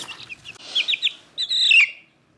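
A young Rhode Island Red rooster chick giving high, thin peeping chirps in quick short bursts, close and clear, then falling silent.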